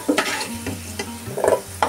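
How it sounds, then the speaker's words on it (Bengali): A fish head fries in hot oil left from frying potatoes, giving a steady, close sizzle broken by bursts of spattering and the scrape of stirring. "আর এই তেলেই এখন আমি মাছের মাথাটা ভেজে নেব।"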